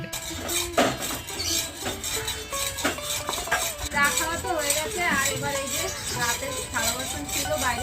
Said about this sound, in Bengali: তাড়াতাড়ি থালা বাসনগুলো ধুয়ে নিতে হবে